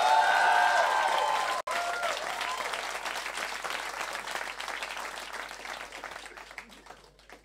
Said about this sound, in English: So, ladies and gentlemen, round of applause for Mr.